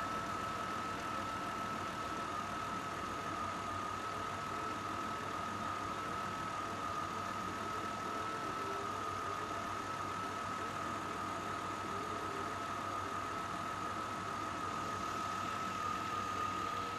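A car engine idles roughly while a fuel system cleaner runs through it, giving a steady, continuous hum with a faint whine on top. It stays even throughout and no one speaks.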